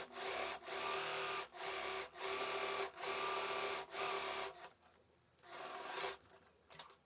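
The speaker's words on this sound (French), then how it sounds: "ensuite je viens coudre en respectant 1 cm de valeur couture" A sewing machine stitches a backpack flap seam in steady bursts of rapid mechanical whirring, pausing briefly between runs, close and fairly quiet, with no voices.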